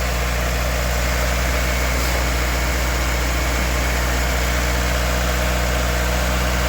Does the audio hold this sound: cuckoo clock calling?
no